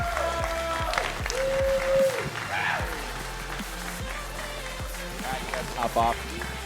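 Crowd applause at a LAN esports grand final for the winning team, steady clapping over a loud arena soundtrack with music, swelling then continuing under an announcer's voice.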